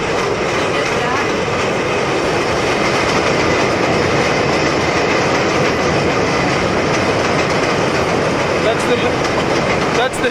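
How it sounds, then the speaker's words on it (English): A train rumbles past close by, with steady loud rolling noise and faint rhythmic clatter from the wheels over the tracks. "That's the train that runs nearby."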